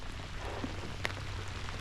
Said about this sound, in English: this rain is coming down a little heavier